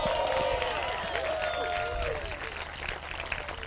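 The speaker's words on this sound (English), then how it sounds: "so I just want everyone to give a big applause for all those guys." Audience applause for competitors at the 2018 Australian National Skydiving Championships, a steady wash of clapping throughout with crowd voices and tonal sounds mixed in.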